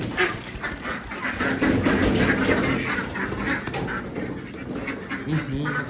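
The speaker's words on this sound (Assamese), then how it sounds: "এই যে আমাৰ ফাৰ্মৰ হাঁহবিলাক এতিয়া ধৰি আছোঁ" Farm ducks quack loudly and continuously in a noisy cluster while being grabbed by hand, with flapping and scuffling close by and no talk.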